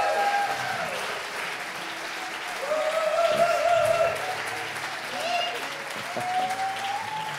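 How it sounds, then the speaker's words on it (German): Audience applause at a conference introduction, a sustained wash of clapping from a large crowd that swells in the middle and again near the end, with faint voices and a brief tonal sound mixed in. "Können wir einmal Alan einfach einen Applaus geben?"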